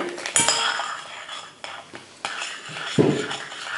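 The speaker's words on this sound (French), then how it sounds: "Touille bien. On touille bien pour bien mélanger." Slime mixture being stirred in a bowl with a utensil, giving irregular scraping and clinking strokes that sound close and fairly loud, with brief pauses between bursts.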